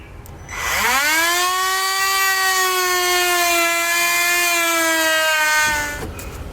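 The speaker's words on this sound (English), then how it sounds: "I'm going to be using a rotary tool. That way I can just make a quick, clean cut." A rotary tool cuts through plastic trim while fitting a Curt trailer hitch receiver on a 2018 Nissan Pathfinder, giving one steady high-pitched whine that holds for about five seconds, close and loud, with no talking.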